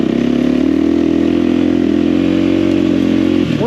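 A nearby motorcycle engine, on a bike fitted with dual-sport tires, idles loudly at a steady throaty pitch for several seconds before a quick blip and shift in tone at the end.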